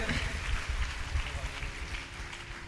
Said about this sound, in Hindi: करतल ध्वनि भावों की अभिव्यक्ति है, थमनी नहीं चाहिए, रुकनी नहीं चाहिए।